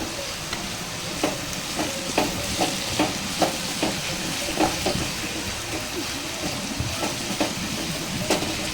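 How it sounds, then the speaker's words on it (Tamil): Ginger garlic paste sautés in a pan while it is being prepared for a prawn pepper fry, giving a continuous close sizzle with regular light spoon taps and scrapes against the pan throughout. "தேவையான இஞ்சி பூண்டு பேஸ்ட்டையும் சேர்த்து நல்லா வதக்கிக்கலாம்"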